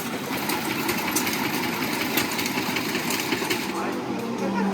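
Vintage tractor engines run at the Iowa State Fair, a steady chugging and rattling drone with crowd noise and voices around it.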